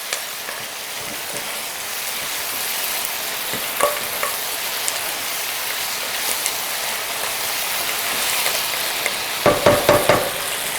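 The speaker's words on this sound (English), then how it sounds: "Once the curry leaves pop" Curry leaves sizzle and pop in hot oil as part of a shrimp and tindora bhaji, a steady frying hiss with scattered crackles that grow into a quick burst of pops near the end.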